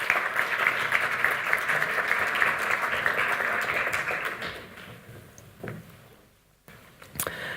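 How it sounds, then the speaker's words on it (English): Audience applause after thanks to the tutors at the opening session of a conference day, steady dense clapping that fades out toward the end, with a few isolated claps at the close. "A round of applause for our tutors."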